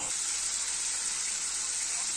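Chicken pieces deep-fry in oil, turning golden brown, a constant hissing sizzle held at an even level with a small knock at the very end.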